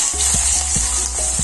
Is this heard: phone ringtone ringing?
no